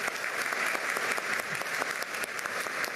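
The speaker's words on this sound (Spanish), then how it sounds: "Fuertes los aplausos." A crowd gives steady, sustained applause at a medal ceremony in a government palace, with many hands clapping evenly and continuously throughout, fairly close and without a break.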